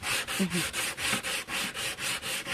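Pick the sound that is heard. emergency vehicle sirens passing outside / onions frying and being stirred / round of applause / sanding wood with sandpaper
sanding wood with sandpaper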